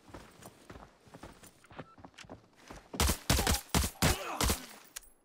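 Gunfire in the shooter game Arena Breakout: a few scattered single shots and footsteps at first, then a loud, close burst of rapid automatic fire cracking out in a dense volley before stopping.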